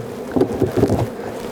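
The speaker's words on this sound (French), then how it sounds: "Ça bourdonne en masse." Honeybees swarm around three healthy hives that came through winter, on a spring hive visit in Outaouais; a dense, close buzz pulses in a few quick swells over a brief moment.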